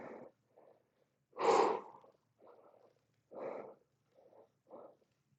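Deep breaths in and out during an abdominal exercise come in a loose rhythm of audible inhales and exhales, one stronger huff standing out, close and alone.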